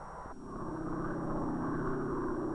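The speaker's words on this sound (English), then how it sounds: "instrument planes take to the air from their base on a neighboring island" Propeller instrument planes taking off from an island base ahead of a Bikini atomic bomb test: a steady, droning engine roar that swells slightly and holds loud and continuous.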